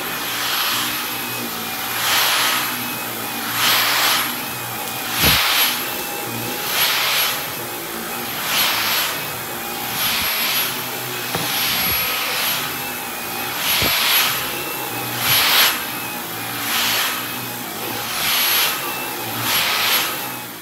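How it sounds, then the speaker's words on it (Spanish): A household vacuum cleaner running continuously with a loud, steady whine that swells and fades in a regular back-and-forth rhythm as it is pushed and pulled, with occasional knocks and no talking. "Les decían que paso la aspiradora."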